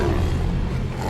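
A loud, close tiger roar sound effect, deep and rumbling, lasting the full moment without any voices.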